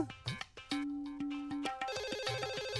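A telephone rings loudly with electronic tones, a repeating patterned ringtone that grows busier and continues without pause, no talking.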